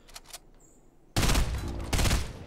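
Fortnite Battle Royale burst assault rifle fires close and loud, two dense crackling volleys in quick succession after a quiet lead-in of faint game sounds.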